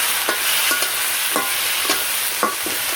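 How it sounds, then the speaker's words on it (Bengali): Potatoes frying on one side of a pan with soft vegetables such as eggplant and okra on the other make a bright, continuous sizzle, punctuated by several sharp scrapes and taps of a stirring spatula. "এখন ওই পাশে এই করে আলু ভাজবার দিচ্ছি, আর এই পাশে নরম সবজিগুলো দিয়ে দিলাম, বেগুন, পুরকলা, ঢেঁড়স এগুলো"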